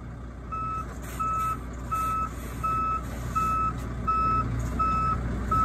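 A truck backs up with its reversing alarm beeping in an even, repeating rhythm, about ten beeps over a rumbling engine and outdoor noise.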